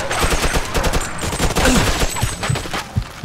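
Dense, loud fusillade of gunfire in the video game Mafia II, continuous rapid shots from several weapons overlapping without a break, close and heavy throughout.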